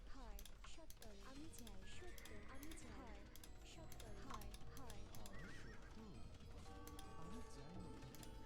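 Horses neigh and whinny repeatedly in Age of Empires II, amid a dense, busy game soundscape of clip-clopping hooves, clanking mechanisms and constant battle noise, with talk heard over the game.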